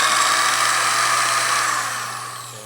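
An electric drill runs on power from a small solar inverter and battery setup, giving a loud, steady whine that holds evenly and then slowly fades toward the end. No one speaks.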